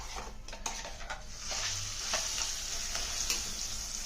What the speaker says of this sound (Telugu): ఇప్పుడు దీనిలో మనం ఈ తాలింపులోకి వేసేద్దాం